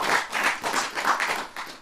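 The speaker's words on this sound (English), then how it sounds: "the crowd, clap your hands if you're familiar with Malcolm X" An interview audience claps hands together, a brief patter of several people clapping in loose rhythm, moderately close with no talk over it.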